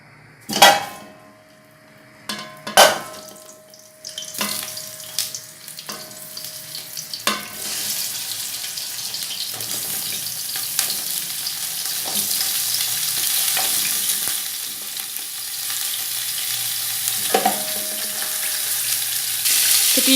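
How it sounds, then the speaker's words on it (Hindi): Beef trotters frying in hot desi ghee over a high flame, a steady broad sizzle that builds and holds throughout, broken early by a few sharp clinks and stirring knocks, close and fairly loud with no voices. "तकरीबन 5 मिनट इसे हाई फ्लेम पर भूनें।"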